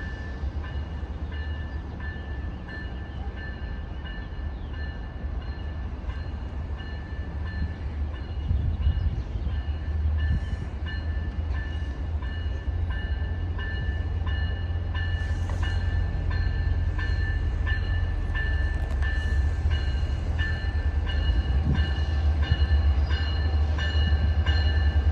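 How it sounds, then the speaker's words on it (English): A Long Island Rail Road train pulling into the platform at Mineola, a long steady rumble of wheels and cars with a faint whine above it, growing gradually louder as it approaches. "Train to Oyster Bay is now arriving on platform B."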